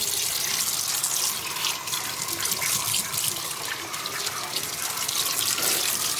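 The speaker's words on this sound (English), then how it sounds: "now I'm rinsing all of my produce" Tap water running steadily into a kitchen sink as fresh produce is rinsed, a continuous close splashing hiss with no talking.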